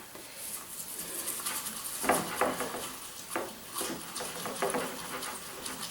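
A utensil scrapes and taps against a bowl in a few short, irregular strokes while garlic powder, onion powder and dried parsley are mixed together, fairly close and without talk.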